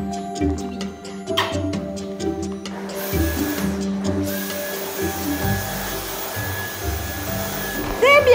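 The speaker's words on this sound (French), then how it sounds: "Même les plus jeunes, comme vous allez le voir, peuvent passer un petit coup d'aspirateur à la maison" A young child runs a vacuum cleaner at home; after a few seconds of quieter household noise, the machine's steady broadband whoosh rises and holds loud and close through the rest.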